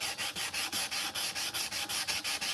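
A knife blade is sanded by hand with oil, in steady rhythmic back-and-forth strokes of about five per second, close and moderately loud with no talking.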